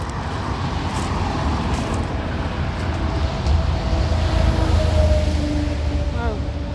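Steady roar of passing cars on a busy road beside a highway, a dense continuous rumble of traffic with no clear gaps, fairly loud and close.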